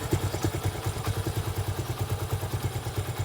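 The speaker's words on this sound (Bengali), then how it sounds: "বাইকটা স্টার্ট দিছি আপনারা সাউন্ডটা মানে শুনতে পারতেছেন" A motorcycle engine idles after starting, with an abnormal squeaking, catching noise from the engine; steady close-up pulsing with a rattly clatter, no talking.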